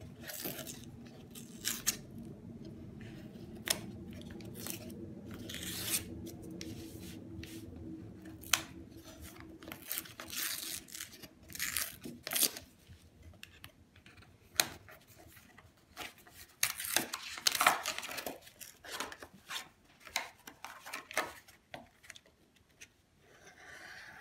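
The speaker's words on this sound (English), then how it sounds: "You just want to remove this paper backing." Paper backing being peeled off craft letters for a light-up floating vase decoration: close, intermittent crackling and tearing rustles, some sharp snaps and softer scraping, continuing for over twenty seconds with no speech.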